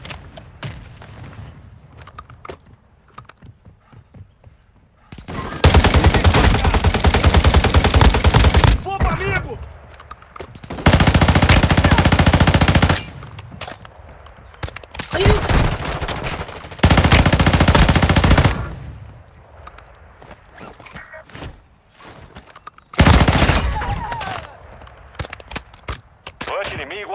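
Automatic gunfire from the mobile shooter game Warzone Mobile comes in several long, loud, sustained bursts separated by quieter stretches of game ambience.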